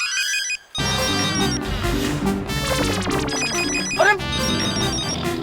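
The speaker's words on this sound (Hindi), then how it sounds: "सॉरी सर, वो मम्मी का फोन आ रहा है।" A mobile phone ringtone plays loudly and continuously in a sitcom scene, a bright repeating electronic melody with a brief pause near the start and a short spoken interjection.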